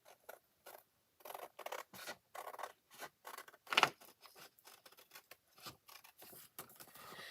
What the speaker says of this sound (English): I'm being bad and using my ribbon scissors here